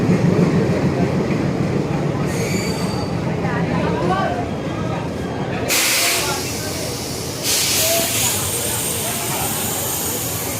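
Yoga Express train standing at the Ahmedabad Junction platform, with a continuous rumbling hum and bursts of hissing air, while someone talks over it amid busy station noise.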